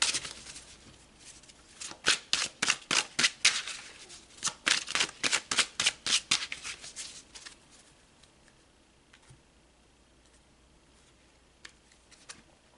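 Tarot cards shuffled by hand in a quiet room, heard as a run of crisp, rhythmic riffling bursts that repeat quickly, then thin out into a few scattered soft taps.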